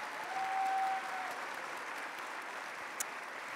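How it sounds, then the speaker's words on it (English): Audience at a formal Greek-Canadian event applauding a dance group in regional costumes, a steady, somewhat distant wash of clapping with a faint brief tone early and a small click near the end. "Let's give them a big round of applause."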